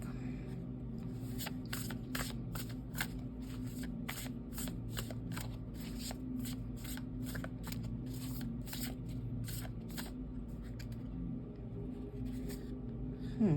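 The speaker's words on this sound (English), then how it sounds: "I'll take one more from this Oracle deck." Oracle deck cards being shuffled, a long run of quick crisp riffling flicks close by, with a low voice murmuring faintly underneath.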